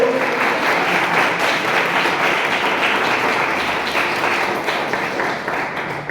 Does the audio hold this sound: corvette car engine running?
no